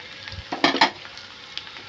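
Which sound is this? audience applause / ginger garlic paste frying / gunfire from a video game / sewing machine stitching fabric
ginger garlic paste frying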